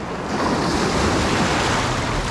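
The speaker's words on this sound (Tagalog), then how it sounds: "Sobrang lalaki ng alon." Big ocean waves off Langogan, Puerto Princesa, Philippines, recorded from a small fishing boat. A continuous broadband roar of surf and wind rushes close and loud without a break.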